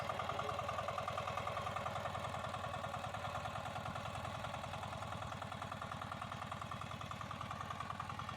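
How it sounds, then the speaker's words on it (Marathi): An 8 HP power weeder engine runs steadily at close range, giving a continuous, evenly pulsing mechanical throb with no talking. "आपला हा पॉवर विडर 8 HP चा आहे आणि 3x3 या अंतरामध्ये सहजरित्या चालतो"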